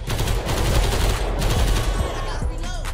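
Dense, loud automatic gunfire from a large gang fight in GTA 5, with rapid bursts overlapping continuously and no pauses.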